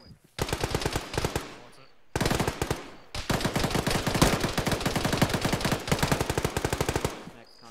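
Bursts of automatic gunfire in a military shooter game, rapid machine-gun volleys in three long strings separated by short pauses, loud and close, with faint voices in the background.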